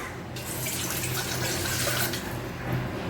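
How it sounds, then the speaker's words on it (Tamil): Water from a glass poured into a cooking pot on a stove, giving a steady, close rush of flowing and splashing liquid that starts abruptly after a short pause and runs continuously. "ஒரு பாத்திரம் எடுத்து வச்சு அதில் நம்ம ஒரு கிளாஸ் அளவுக்கு தண்ணி வந்து சேர்த்துக்கலாம்"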